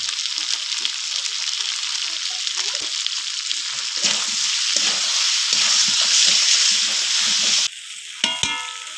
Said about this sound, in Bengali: এবার মাংসগুলো ভালো করে কষিয়ে নিয়ে দিয়ে দেবো ধনের গুঁড়ো ও জিরের গুঁড়ো।